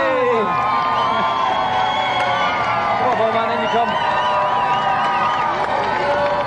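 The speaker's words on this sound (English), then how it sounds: "Round of applause for Golden Bomberman" A studio audience cheers and whoops for Golden Bomberman on a video-game show, a dense steady crowd roar with shouts over it, while a presenter talks over the noise.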